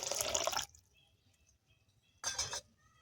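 Water poured into a simmering fish curry of ribbonfish: two short splashing gushes, the first about half a second and the second briefly after a pause, close with a quiet gap between.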